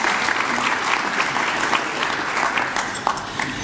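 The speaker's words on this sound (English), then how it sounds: "Let's give him a better round of applause." Audience applause at a 2016 dinner event, a steady dense wash of many hands clapping throughout, fairly loud and sustained with no talk over it.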